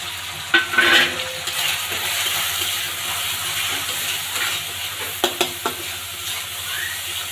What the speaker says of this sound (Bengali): মশলাটা একটু কষিয়ে নিয়েছে, এবার দিয়ে দিব হলুদ, লবণ, মরিচ এবং ধনিয়া গুঁড়ো।